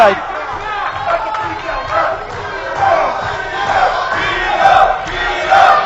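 A wrestling arena crowd roars and cheers continuously, dense and loud throughout, with a commentator talking over the noise.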